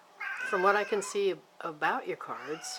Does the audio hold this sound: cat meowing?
yes